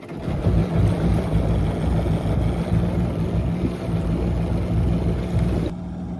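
A 2003 Polaris Genesis 1200 DI personal watercraft engine runs steadily in the water just after its first crank following a cracked-cylinder repair, a loud continuous low rumble that carries on alone until it cuts off near the end.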